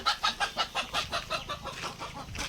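Free-range desi chickens on a poultry farm clucking in a shed, a steady run of rhythmic, close clucks repeating about every fifth of a second with no talking.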